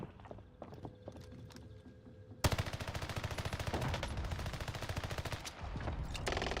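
Rapid automatic gunfire in Call of Duty Warzone, a long sustained burst of loud, close shots after a quieter stretch of footsteps and game ambience.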